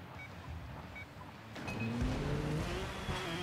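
A 125cc motorcycle engine in a racing video game rises into a steady, loud drone after a quieter start, revving upward with a harsh whine through the second half.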